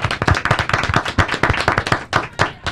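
A small audience claps hands at a gathering, with distinct, fairly loud individual claps in a quick, uneven rhythm, close by and with no talk.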